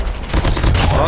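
Rapid gunfire from the Call of Duty Mobile game, a loud burst of overlapping shots in quick succession filling a brief moment.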